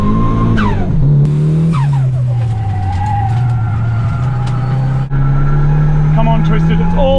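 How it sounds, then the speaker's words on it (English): A car in a racing video game spinning its wheels, a loud sustained engine drone with screeching tire tones on top, while a person talks over it. "It's all wheel spin."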